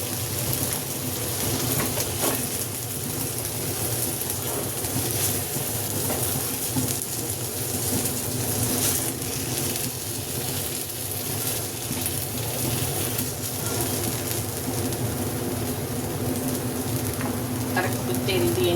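Tandoori chicken pieces fry in hot oil with a steady, moderate sizzle that runs throughout, soft crackles and faint stirring scrapes on top.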